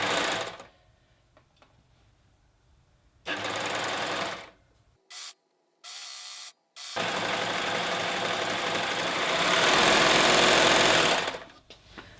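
A sewing machine stitches fabric for a tiered dress or skirt in several close, loud bursts of rapid mechanical whirring, split by short pauses and quiet handling, with a long final run.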